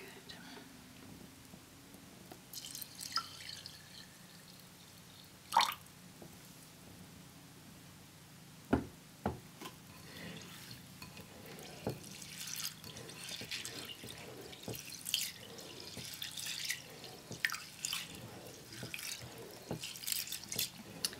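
Water runs from a tap and drips into a sink while tattoo ink is rinsed, with intermittent splashes and trickles close by and a quiet voice speaking now and then.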